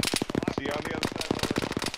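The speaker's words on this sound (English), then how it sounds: "I heard AK. It sounded pretty close." Rapid AK rifle bursts crackle close by in the military video game Arma, a dense run of sharp shots carrying on without a break for the whole stretch.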